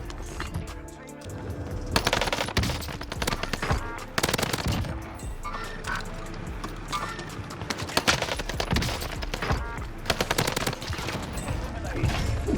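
H4 Blixen submachine gun fire in the Warzone shooter, heard as dense, continuous rapid-fire bursts with brief pauses between strings, loud and close throughout, with a voice talking over parts of it.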